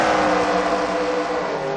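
Race cars roar steadily from a NASCAR video game, a dense, continuous engine drone with a little pitch shifting, loud and close with no talk over it.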